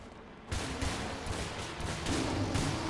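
Continuous, dense gunfire from the dinosaur shooter game Primal Carnage, a steady loud barrage of overlapping shots that starts abruptly and rolls on without pause.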